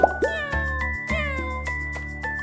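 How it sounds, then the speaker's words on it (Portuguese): A cat meows a few times up close over a soft, steady musical backdrop, with drawn-out cries that rise and fall. "Este é o som do gato, pronto para miar novamente."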